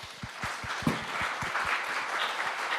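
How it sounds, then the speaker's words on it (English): Applause from a room full of people, with a few sharp claps standing out near the microphone over the steady patter. "join me for a round of applause"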